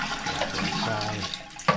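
Water rushing through a toilet cistern valve, a steady close hiss of flowing liquid ending in a small knock.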